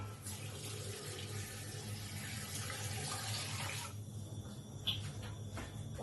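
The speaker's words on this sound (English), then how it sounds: "Then add water." Water runs into a pot of potatoes being cooked for a fish pie, a soft steady flow that stops partway through, leaving a quiet kitchen with a faint clink.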